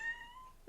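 A cat gives one drawn-out, fairly faint meow nearby, trailing off into quiet.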